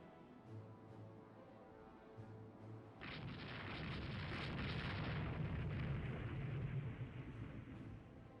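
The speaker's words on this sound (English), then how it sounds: "our battleships are now engaged" Battleship guns fire in the naval game Rule the Waves 2, with a couple of short low thumps and then a long, sustained rumbling blast that swells and slowly fades, distant and muffled.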